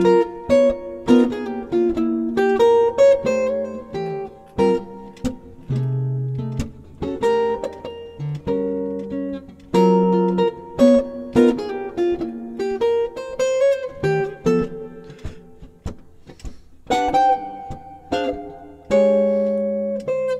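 A relaxed, bluesy jazz melody, played on a single sustained instrument, notes phrased in short swinging lines with brief pauses between them.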